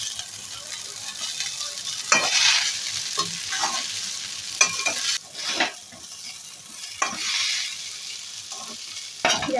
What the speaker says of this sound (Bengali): গ্যাসের ফ্লেমটাকে হাই করে দিয়ে মিনিট 2-1-এর মতো ভালো করে নাড়িচাড়িয়ে ফ্রাই করে নিলাম।